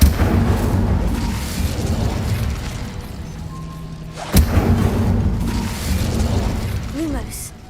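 The Incendio fire spell in Hogwarts Legacy bursts out with a sudden loud whoosh and thump midway, set against a continuous rumbling game soundscape with a few tonal magical chimes after it.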